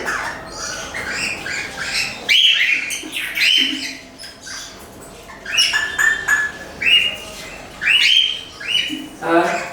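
Several sharp bird squawks and chirps burst out in clusters, fairly close and loud, with brief quieter gaps between the calls, from a bird nesting on eggs inside a clay pot.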